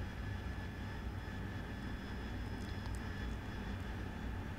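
AV-8B Harrier jet engine spooling up in the DCS World flight simulator, a steady, loud broadband roar with a constant whine that holds throughout without pause.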